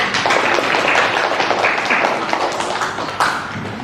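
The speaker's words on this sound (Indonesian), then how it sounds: "Oke, kasih semangatnya, tepuk tangannya." Classroom of students clapping for a group about to present, close, lively applause with individual claps standing out, tapering near the end.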